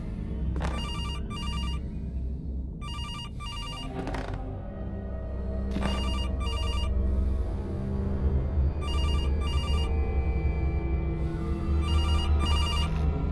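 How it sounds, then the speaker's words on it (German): A telephone rings repeatedly in the horror video game CASE: Animatronics, with bursts of electronic double trills spaced a few seconds apart over a low, droning ambient rumble and a few clunks. "hier klingelt ein Telefon"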